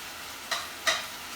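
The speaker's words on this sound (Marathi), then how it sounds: "आता आपण हे तळलेले बटाटे ह्यात घालूया" Fried potatoes for crispy chilli potato are tossed into a pan over a high flame: two quick scraping stirs rise above a steady soft sizzle.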